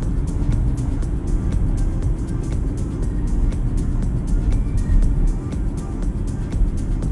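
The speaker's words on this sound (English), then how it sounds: "Now the vehicle is in sport mode and you'll see quickly that the gear shifts are held longer." A BMW X3 xDrive20d accelerates in sport mode, heard from inside as a steady, loud low engine drone and road rumble that holds for the whole stretch with no talking.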